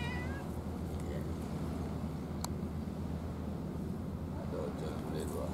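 A cat meowing faintly at a fishing harbour bench, with soft mews over a steady low outdoor rumble and people talking nearby.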